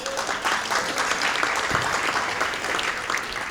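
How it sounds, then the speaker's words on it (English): A packed room at a news leadership speech breaks into dense, continuous applause for Lee, a steady wash of many hands clapping without pause for the whole stretch. "Round of applause for Lee"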